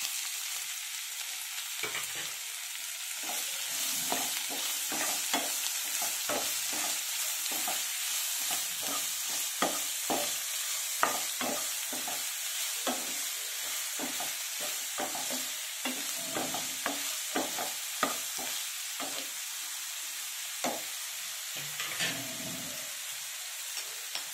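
Sliced onions and green chillies fry in a pan, giving a continuous crackling sizzle broken by repeated scrapes and clicks of stirring, with no talking.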